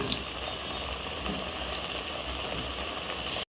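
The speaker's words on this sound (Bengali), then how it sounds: "চিপে রাখা পকোড়াগুলো আবারও গরম তেলের মধ্যে একটা একটা করে ছেড়ে দিচ্ছি।" Fritters of mixed leafy greens (kolmi, susni, kulke, borma and thankuni) fry a second time in hot oil, giving a steady, even crackling hiss that carries on unbroken until it cuts off abruptly.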